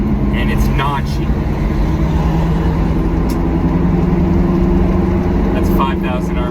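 A kei truck engine pulls hard at 5,000 RPM in fourth gear while driving through town, a loud steady drone filling the cabin with someone talking over it.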